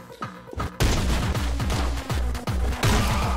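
Rapid gunfire in Anger Foot, a loud, dense string of repeated shots that starts abruptly and keeps a steady, punchy rhythm to the end.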